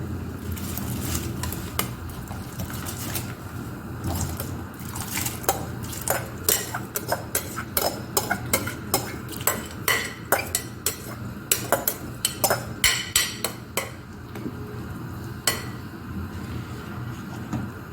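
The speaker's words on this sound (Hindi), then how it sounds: "अब डालेंगे हमारे चावल।" Rice tipped into a pot for chicken biryani, with a run of sharp metallic clinks and knocks of utensils against the pot, close and fairly loud, irregular and denser toward the middle, over a low steady background, no voices.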